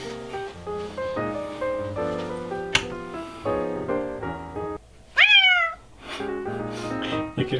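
A cat meows and yowls loudly during a struggle, giving a burst of rising and falling cries near the microphone. Steady tonal music plays underneath throughout.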